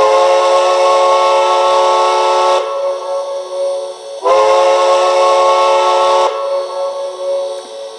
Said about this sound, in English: is long whistle.